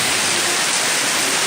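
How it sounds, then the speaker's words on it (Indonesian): Heavy rain pours down outdoors as a loud, dense, unbroken roar of drops, steady and close throughout with no voices. "tapi lagi hujan deras"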